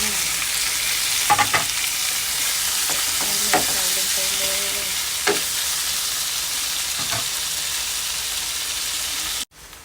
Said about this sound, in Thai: มาผัดนะคะผัดเลย ก็ปลาหมึกใส่ลงเลยจ้า